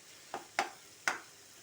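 Fresh coriander stirred into a frying pan of cooked dish: three quick, faint scraping strokes over a quiet background of low sizzle.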